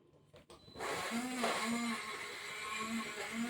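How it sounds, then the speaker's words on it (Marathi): A glass-jar mixer grinder blends mango for kulfi. The motor starts after a short quiet moment and then whirs steadily and close by, its pitch wavering slightly as the fruit churns. "ग्लास मिक्सर आहे हा तर ह्याच्यामध्ये आपण बारीक करणार आहोत"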